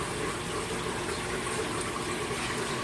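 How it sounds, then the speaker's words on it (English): Aquarium chiller plumbing pumping water out of a fish-room sump and back in, a steady close rushing and gurgling flow that holds level throughout with no talk. "The chiller is pulling water out of the sump and putting it back in."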